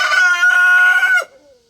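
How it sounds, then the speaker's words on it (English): A single loud, close rooster crow in a backyard chicken pen, a long harmonic call lasting about a second before cutting off into faint low clucking. "I got to go tend to the chickens"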